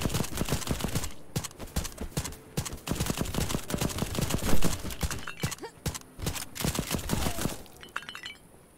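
Rapid bursts of gunfire from an airship shooter in the steampunk open-world game Black Skylands, sharp repeated shots with clinking, shattering impacts packed densely throughout, loud and close, with a brief quieter gap near the end.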